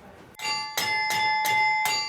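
Carillon bells of the Douai belfry, France, ring out in four bright, resonant strikes at an even pace, their tones overlapping and sustaining between hits.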